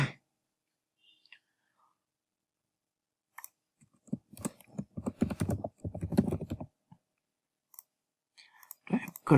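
Typing on a computer keyboard, scattered clicks and short bursts of keystrokes at close range, broken by silent gaps, with faint whispery voice sounds mixed in.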